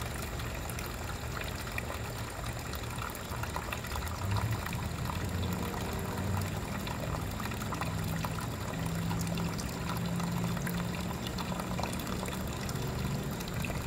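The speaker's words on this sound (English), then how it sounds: "I wanted to go drain off this water before I pull the oil drain plug." Floodwater trickles and pours steadily in a thin stream from a flooded motorcycle engine, a continuous low splashing that runs unchanged for the whole stretch with no voices.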